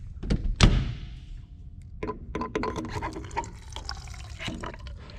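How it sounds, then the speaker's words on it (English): Fuel drained from a Cessna 172SP into a sump cup during a preflight check, heard as close, faint trickling and dripping with a few splashes and small clinks. "now we're going to sump the fuel"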